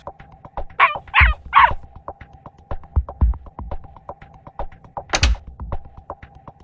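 A dog in the vet video game Vet Emergency 2 barks three quick times, then once more a few seconds later, over a steady ticking background.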